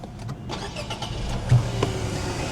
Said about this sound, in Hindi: मैं आपको एक बार इंजन भी ऑन करके दिखा देता हूँ।